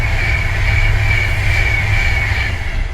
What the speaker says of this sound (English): you will hear the trains going past